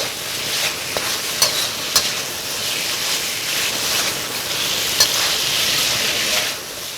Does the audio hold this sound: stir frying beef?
yes